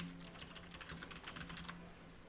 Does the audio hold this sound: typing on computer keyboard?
yes